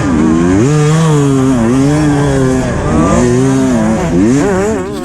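A two-stroke motorcycle races flat out across a beach course, its loud, buzzing engine wailing steadily and rising and falling in pitch with throttle changes, close and continuous throughout.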